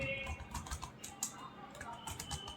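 Quick, light keystrokes tap on a computer keyboard in a short, uneven burst, quiet and close, with soft speech underneath.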